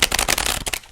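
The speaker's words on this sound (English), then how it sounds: "Lots of hearty shuffles in there." Tarot cards shuffled vigorously by hand, a dense run of loud, close riffling crackles that stops abruptly just before the end.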